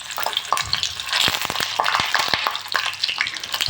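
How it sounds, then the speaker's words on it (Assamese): Onion frying in oil sizzles close and loud while being stirred slowly, with frequent sharp spatula clicks and scrapes against the pan over a constant crackling bed. "এতিয়া পিঁয়াজটো অকণমান ৰঙচুৱা হ'বলৈ এৰি দিম তেলতে।"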